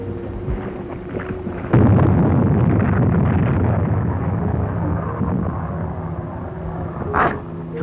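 A torpedo explosion in a Call of Duty World War II naval scene erupts suddenly after a quieter stretch, then rolls on as a long, heavy rumble that slowly fades.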